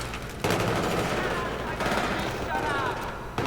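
Gunfire in the video game Battlefield 3 directed at the player, a sustained dense burst of shooting that runs nearly the whole moment with brief gaps, loud and close, while a voice speaks over it.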